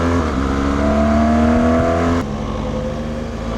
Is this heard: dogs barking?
no